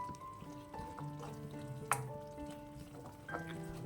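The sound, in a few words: egg curry masala with tomato being sautéed in a pan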